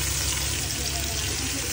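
Tomatoes go into hot oil for a loitta (Bombay duck) fish curry in a Bangladeshi home kitchen, giving a steady, even sizzle that lasts under two seconds with no pauses.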